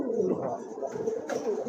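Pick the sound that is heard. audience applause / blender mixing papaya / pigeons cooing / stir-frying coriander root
pigeons cooing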